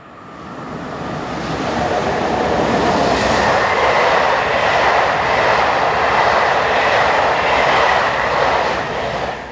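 Locomotive 7247 hauls the 1931 Paris-Bercy to Dijon passenger service past at speed, a loud, sustained roar of wheels and rushing air that swells in and holds steady throughout, with no voices.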